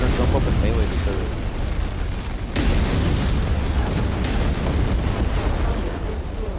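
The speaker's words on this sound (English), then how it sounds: "That spider jumped into the capture zone and then blew up." A mech explodes in the MechWarrior 5: Mercenaries video game, a loud heavy boom with rumbling blasts, and a voice speaks over the noise.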